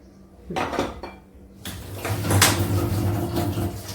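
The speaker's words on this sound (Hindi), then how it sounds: "इधर रखते हैं कढ़ाई, इधर रख देते हैं" A kadhai is set down on a stove, with a clanking knock of metal on metal followed by rattling and a low rumbling hum, close by with no talk.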